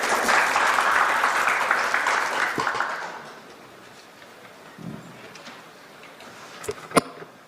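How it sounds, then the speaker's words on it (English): An audience in a presentation hall in Seoul applauds to welcome a speaker, with dense clapping that fades over about three seconds, followed by a few scattered claps and thumps. "Please welcome him with a big round of applause."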